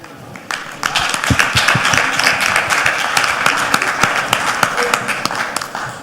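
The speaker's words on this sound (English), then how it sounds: "if that applause was for me, I'll take it. But it is for Team Eswatini." An audience applauds for Team Eswatini at a Junior Achievement Africa competition, with sustained dense clapping and sharp individual claps near the microphone, a voice faintly audible underneath.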